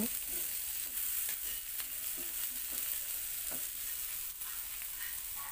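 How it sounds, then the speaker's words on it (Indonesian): Sliced chili being stir-fried together with fish in a pan, a steady soft sizzle with scraping stirring strokes throughout, close and alone without talk. "Setelah cabainya layu, kita aduk bebarengan ya dengan ikannya tadi, kita campur jadi satu."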